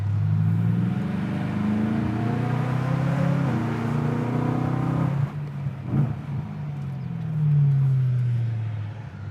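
A car engine with a throaty, high-pitched budget aftermarket exhaust revs up and climbs in pitch, then drops back before a second rev rises and fades, close and loud.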